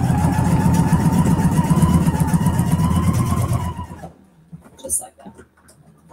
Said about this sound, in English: we're going to put our presser foot back down and we're going to sew the rest of the way